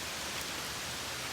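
Rain pours onto the roof of a duck hut in a steady, even hiss of dense drops, close and unbroken throughout with no talking.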